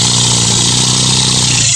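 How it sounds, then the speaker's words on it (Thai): A tractor engine runs loud and close, holding a steady, unbroken mechanical drone throughout with no voices. "เสียงรถไถ เสียงเครื่องจักรมันจะดังเนาะ"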